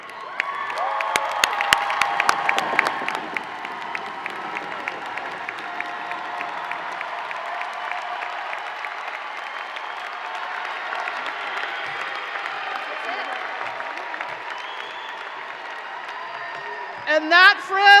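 Commencement audience for the College of Liberal Arts class of 2025 applauding and cheering steadily, with a dense burst of claps and whoops at the start that settles into sustained clapping, then a brief louder flurry near the end.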